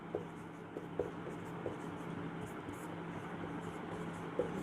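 Someone writes on paper or a board during a math lesson, making faint scratching strokes with a few light taps against quiet background noise, without talking.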